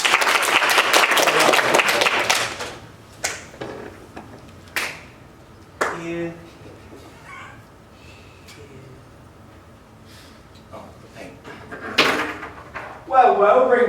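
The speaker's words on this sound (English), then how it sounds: "Please clap them so they can actually start the sketch." A theatre audience applauds loudly for a couple of seconds before a Christmas sketch, then the clapping fades into scattered knocks, thumps and bursts of voices and laughter.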